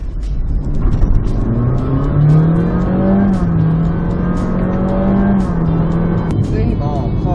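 2021 Honda Fit e:HEV hybrid car accelerating hard from inside the cabin, a steady loud road and motor drone with a rising then leveling whine, a voice speaking over it.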